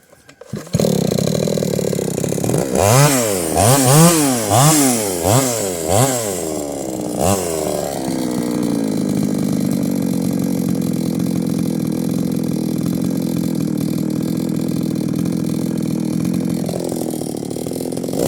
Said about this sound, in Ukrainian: А Сьогодні ми вже покажемо, як ця бензопила ріже